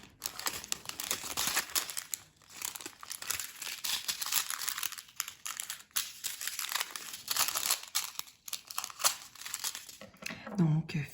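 Small diamond painting supplies being cut by hand, producing soft crinkling and snipping rustles that come and go while someone talks over them.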